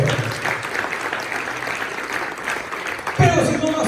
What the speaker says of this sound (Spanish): Denle palmas a Él.